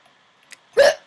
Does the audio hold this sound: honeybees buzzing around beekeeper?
no